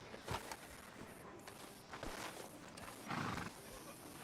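Horse hooves thud in an uneven walking rhythm at a distance in Red Dead Redemption 2, with a couple of louder hoof strikes standing out over quiet background noise.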